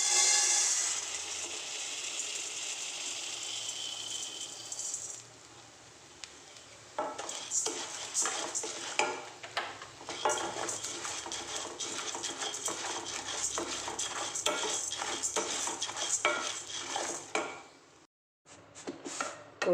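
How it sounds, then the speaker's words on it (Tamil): Whole wheat grains being dry roasted in a pan, stirred with a utensil that scrapes and clinks steadily against the metal, with a brief pause partway through and no talking. "கோதுமையை வறுத்து எடுத்துக்குவோம்."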